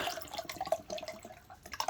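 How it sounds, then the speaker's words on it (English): Radiator flush liquid pours and trickles into the cooling system of a Fiat 500 1.2, giving a faint, close, continuous watery splashing with small glugs and drips. "you dilute it, pour it in, and then top the system up"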